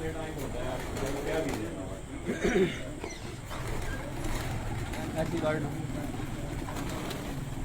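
Rooftop racing pigeons coo in low, soft, repeated calls, heard under steady talking voices.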